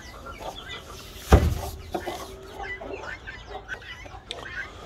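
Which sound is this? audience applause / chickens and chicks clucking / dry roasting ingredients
chickens and chicks clucking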